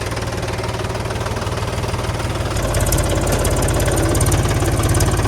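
Shortly after starting, a Mahindra 275 DI XP Plus tractor's diesel engine clatters steadily nearby, its knock growing louder and more pronounced about halfway through, with no one speaking.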